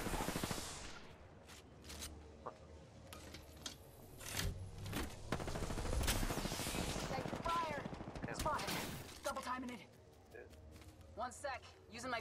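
Video-game gunfire from an Apex-style shooter crackles in dense bursts for most of the span, mixed with game effects and chatter, with voices talking over the shooting throughout.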